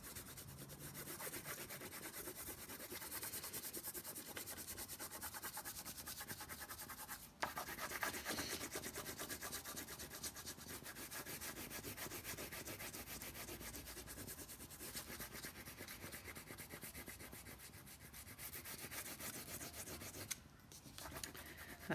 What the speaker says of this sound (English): if you get your red crayon, and you need to crayon all over the plate, cover all of it up